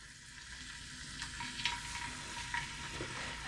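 A test piece of conch fries in oil that is not yet fully hot, giving a steady, moderate sizzle with a few small pops and crackles and no voices.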